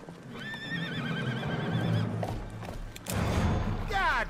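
A horse in the Western video game GUN whinnies loudly and clearly, followed by clip-clopping hooves and game sounds, with no voices in the game audio.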